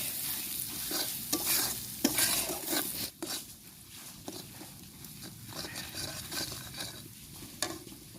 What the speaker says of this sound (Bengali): এবার এগুলোকে খুব ভালো করে ভেজে নেব।